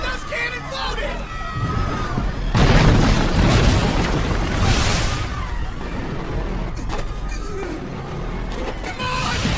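Deep cannon booms and rumbling explosions roll through a dense, noisy battle scene, with a sustained loud blast in the middle and shouting voices mixed throughout.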